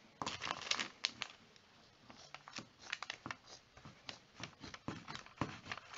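Scissors snipping through fabric while cutting pieces for a washable homemade face mask, producing a quiet run of uneven crisp snips and rustles of cloth being handled close by, with no one speaking.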